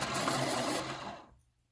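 Steady grinding whir of a pencil being sharpened, close by, running for about a second before trailing off into quiet.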